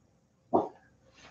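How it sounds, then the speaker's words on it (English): A dog barks once, sharp and fairly close, in a quiet indoor room, followed by a faint trailing sound. "Sorry about the dog. She hates the mailman."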